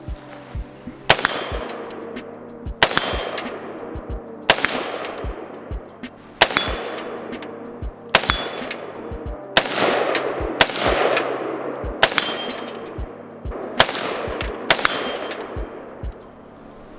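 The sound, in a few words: IWI Zion 15 AR rifle shots hitting a steel tree target at 50 yards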